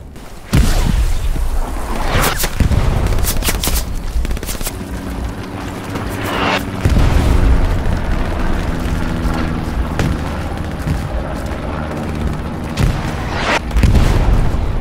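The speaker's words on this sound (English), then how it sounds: "Grenade!" Grenade blasts and gunfire in the World War II game Hell Let Loose, with loud booming explosions and sharp shots scattered throughout over a constant rumbling battlefield background.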